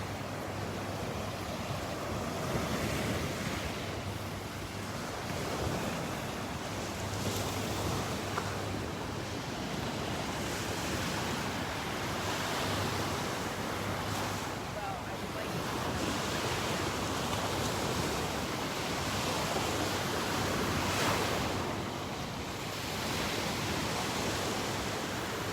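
Ocean surf and wind along Delnor-Wiggins beach on a morning walk: a steady, broad wash of breaking waves and gusting air, continuous throughout with no voices.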